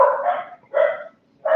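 Dogs bark in three close, loud bursts with short gaps between them, sharp and near.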